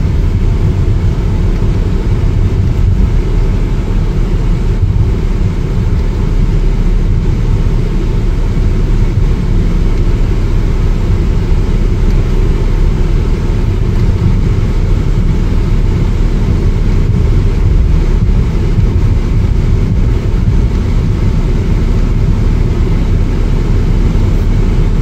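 2016 Mercedes-Benz GLE350 4matic SUV on the move, a constant broadband road and engine rumble with wind noise from inside the cabin, steady and unbroken for the whole stretch without speech.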